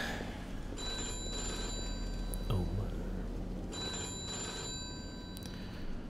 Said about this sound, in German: Und das Telefon klingelt.